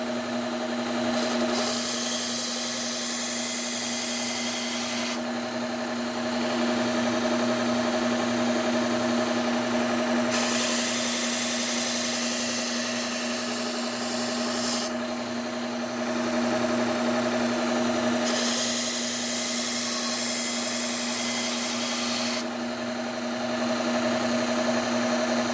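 Hunting knives are sharpened on a powered sharpener that runs with a steady motor hum, while the blade rubs against it in repeated passes of several seconds each, broken by short pauses.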